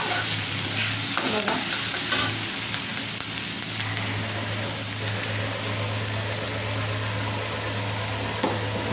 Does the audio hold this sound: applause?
no